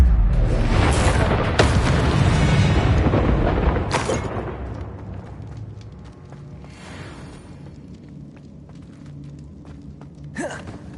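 A Confringo fire-blast spell explodes in the Hogwarts Legacy video game with a loud, broad boom. A long rumbling decay follows, and a few sharper impacts come later as the scene quiets.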